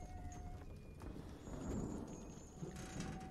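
Thunderstorm with rain in a horror video game: a low rumbling roll of thunder swells in the middle over a steady rain hiss, with thin tonal game sounds above, fairly faint overall.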